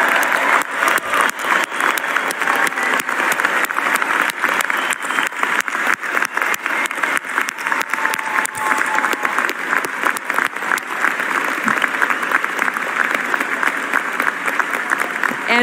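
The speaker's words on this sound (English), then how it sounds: "so that we can give you the round of applause that you so deserve" Sustained, loud applause from a large graduation commencement audience for the University of Massachusetts Lowell class of 2022, dense steady clapping filling the hall without a break.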